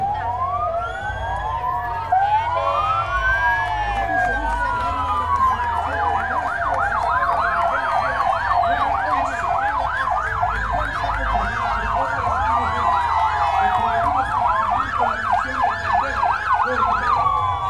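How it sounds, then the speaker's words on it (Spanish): Sirens on new police patrol cars in a September 15 Independence Day parade wail and whoop together, several overlapping rising and falling tones that stay loud and close for the whole stretch over a low engine rumble. "Estas son nuevas adquisiciones de patrullas policiales."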